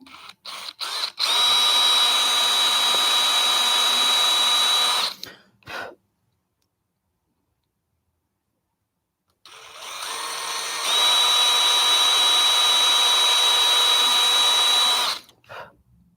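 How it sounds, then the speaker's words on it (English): A power drill boring into wood for a mini guitar kit whines steadily at close range in two long bursts, each about four seconds, separated by a few seconds of silence. "I'm just letting the drill bit do the work."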